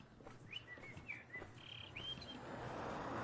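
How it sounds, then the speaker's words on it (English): Birds sing outdoors along a pavement: several short, clear chirps and whistled phrases, moderately close, over faint background noise. A soft traffic-like hiss swells toward the end. "Birds are singing."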